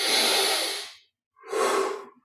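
Two long, deep breaths drawn close during a guided meditation, each a loud, airy rush lasting about a second, separated by a short silence.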